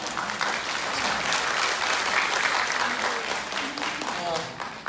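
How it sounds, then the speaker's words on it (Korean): Audience applause at a lecture hall talk, a dense steady clapping that fills the room and holds at full strength throughout, with faint voices mixed in underneath. "한 분이 박수를 치셨는데 다 따라 치시지 않습니까?"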